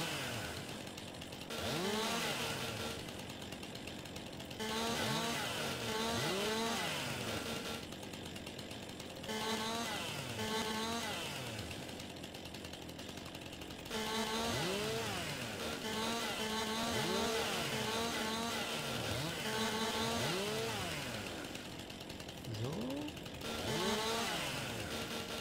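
Chainsaw cutting deciduous trees in the video game Farming Simulator 22, with repeated revving bursts rising and falling in pitch, separated by short idle gaps, loud and continuous throughout.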